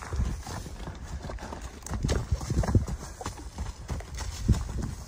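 Hooves clip-clop on the ground in an uneven rhythm, at moderate distance, with some background noise and a faint voice.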